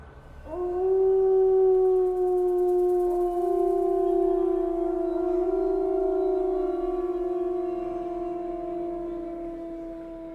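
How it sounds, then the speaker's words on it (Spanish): A wolf howls in a long, sustained cry that rises and wavers, with a second voice joining and the sound slowly fading, heard clearly and alone as an atmospheric effect. "fui consciente de un gruñido bajo, seguido de un aullido que se renovó una y otra vez"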